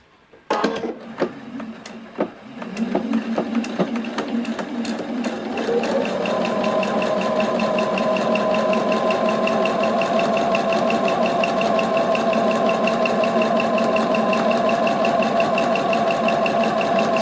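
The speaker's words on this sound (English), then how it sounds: "just sewing around the outside, leaving a gap in the middle" A sewing machine stitches around the outside edge of a fabric face mask, starting with a few short bursts, then settling into a loud, continuous, even whirring run.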